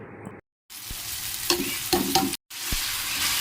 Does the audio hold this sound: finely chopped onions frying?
yes